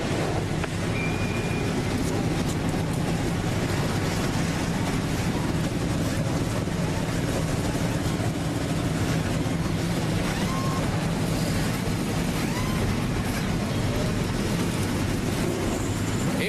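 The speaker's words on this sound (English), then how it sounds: "Engines have fired and they are set to roll here momentarily" NASCAR Nationwide Series stock car engines fire up together before the 2009 O'Reilly 300, producing a dense, steady roar that holds unbroken throughout.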